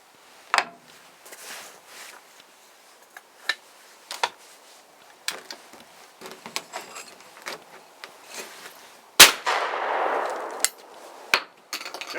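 A Cooey Model 84 single-shot 12 gauge shotgun, a lightweight gun fired with 1 ounce target shells, goes off once as a loud, sharp blast with a long noisy tail. It sits among scattered clicks and handling knocks, with no talk.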